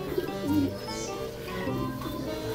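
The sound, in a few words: pigeon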